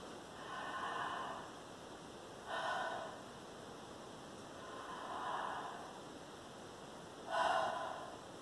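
Slow, deep breaths during a breathing exercise aimed at expanding the back. Four soft, airy breath sounds come close to the microphone at even intervals, with quiet pauses between them.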